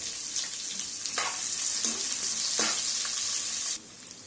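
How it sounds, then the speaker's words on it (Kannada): Finely chopped onions fry in a pan for a flower cabbage curry, giving a steady, close sizzle with a few stirring scrapes before the sound drops off sharply near the end. "ಇದು ಚೆನ್ನಾಗಿ ಗೋಲ್ಡನ್ ಫ್ಲೇವರ್ ಬರೋವರೆಗೂ ಚೆನ್ನಾಗಿ ಫ್ರೈ ಮಾಡ್ಕೋಬೇಕು."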